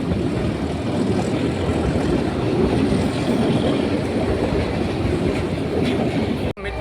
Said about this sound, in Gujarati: આ બ્લોકમાં ટ્રેન પણ આવી ગઈ.